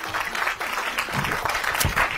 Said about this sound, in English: Please, can we give a round of applause to Frances Anne Solomon?